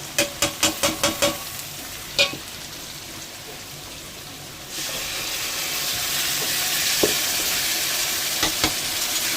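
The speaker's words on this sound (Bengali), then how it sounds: "এবার ভালো করে এটাকে কষাবো" Spice paste is cooked in a pan for a fish curry with papaya and potato: a few quick spoon taps and scrapes come first, then a steady sizzle as it fries and is stirred.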